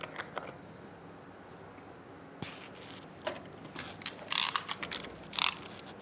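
Clicks, ratchety snaps and a few louder clattering bursts come from a plastic cover being opened on a Focus Athena Jet Plus DTG printer, sounding close and fairly quiet, with no voices.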